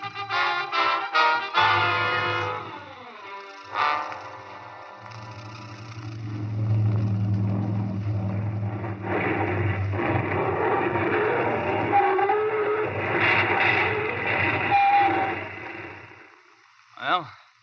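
An aircraft makes an emergency landing in a 1943 radio drama about the Air Force: a steady droning engine roar swells and holds, fades briefly, then ends in a short thump, after a few opening bursts.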